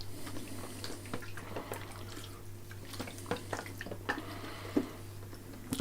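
A black-and-white film developing tank filled with fixer is agitated by hand, giving soft muffled sloshing and liquid squishes over a steady low hum.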